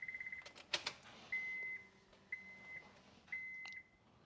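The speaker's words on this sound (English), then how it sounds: "I was waiting for that beeping to stop." Honda Pilot dashboard warning chime with the key in the on position, a faint series of thin electronic beeps repeating at uneven intervals in a quiet cabin.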